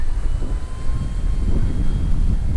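A steady drone from an RC warbird model airplane coming in to land, heard as a continuous low engine hum mixed with wind buffeting on the microphone, fairly loud and unbroken with no voices.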